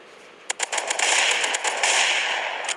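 Shotgun fire in the mobile shooter game Mask Gun: a rapid burst of sharp shots, then sustained crackling gunfire, fairly loud and with no voices.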